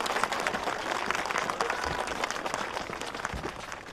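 Wedding guests applauding as the bride and groom enter, a steady, dense wash of many hands clapping at once, sustained throughout at moderate level.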